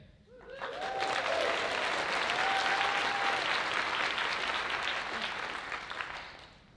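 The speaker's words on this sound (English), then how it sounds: "everyone gets a round of applause." Sustained crowd applause for dancers and a DJ at a swing dance event, swelling quickly and holding steady for several seconds before fading, with a few faint cheers and whistles over the dense clapping.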